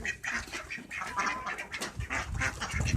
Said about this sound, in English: And I still can't find Mama Duck